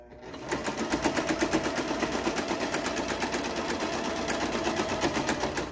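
A sewing machine stitches a fabric face mask shut in one continuous run of rapid, evenly pulsed needle strokes, close and fairly loud, starting after a brief quiet moment with no talking.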